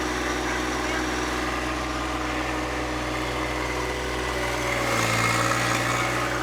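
A tractor engine runs steadily at a low, droning pitch while pulling, the load note rising slightly near the end; it holds continuous and close throughout.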